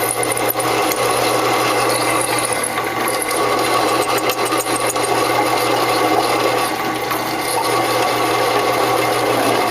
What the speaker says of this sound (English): And it drills through.